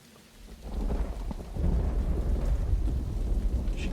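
Rain pours and thunder rumbles deeply in the video game Uru, swelling from quiet to a sustained, dense downpour with a low rolling roar underneath.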